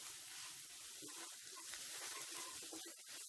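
Spice masala frying in a pan for a Kerala-style egg roast, a faint, steady sizzle with soft stirring underneath and no voices.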